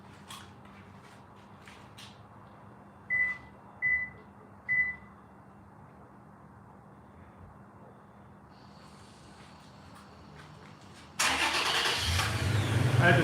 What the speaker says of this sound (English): I had to turn the truck on.